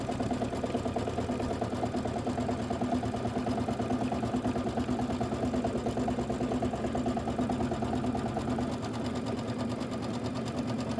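A sewing machine stitches down quilt borders, a loud, close, continuous motor hum with rapid needle chatter, running steadily without pause.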